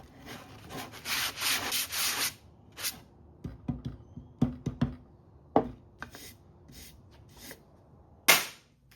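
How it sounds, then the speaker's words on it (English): Hand sanding of joint compound filling ridges on concrete bench forms: scattered rubbing strokes and short scraping bursts, a busy stretch at first, then sparse taps and scrapes, close and quiet. "take a little bit of joint compound and fill in the ridges, sand it back"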